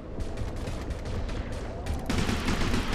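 Rapid volley of gunfire in the deep-sea survival game Depth, several sharp cracks in quick succession over a dense, muffled background, with a heavier burst near the end.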